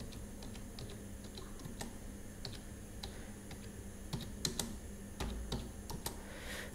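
Typing a terminal command on a computer keyboard while installing software on Ubuntu 24.04, a steady run of light, close key clicks with a few sharper taps near the end, no voices.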